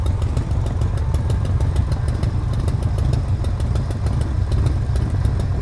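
A Triumph Bonneville T120 motorcycle fitted with an X pipe exhaust runs with a steady, loud, throbbing engine rumble that stays constant throughout, close by, with no talking.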